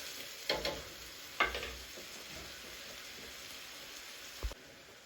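Tomatoes simmer in a pot for a Malawian usipa dish, giving a low steady sizzle with a few scraping stirs of a utensil near the start and one near the end.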